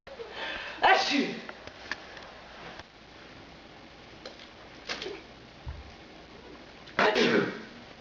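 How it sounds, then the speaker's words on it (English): A person sneezes loudly three times, spread apart with pauses between them, each a sharp burst above a quiet room with faint background sounds. "it all started with a sneeze."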